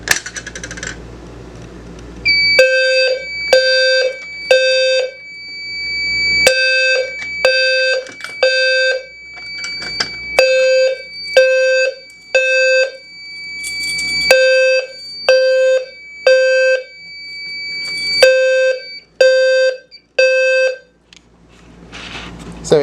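A Simplex fire alarm system sounds during a test, its horn blaring in loud repeating pulsed bursts with a strong tonal whine, alongside a steady high electronic tone, pausing briefly between groups.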